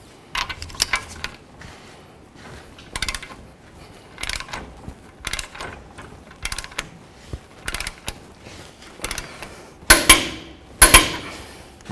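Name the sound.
tightening a nut with a 15/16 socket on a Toyota 4Runner control arm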